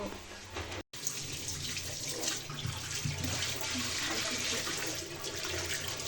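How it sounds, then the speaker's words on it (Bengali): A kitchen tap runs steadily while two dressed chickens are rinsed clean beneath it. The water makes a constant, fairly close hiss and splatter, broken only by one very brief cut near the start. "এখানে আমি এখন এটা ক্লিন করে নেব একদম কল ছেড়ে পানি দিয়ে"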